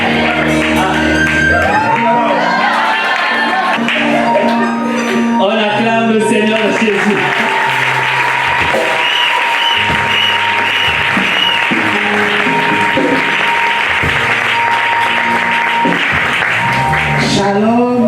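A church congregation applauds and cheers for a long, loud, sustained stretch, with shouts, whoops and music or singing mixed into the dense crowd noise.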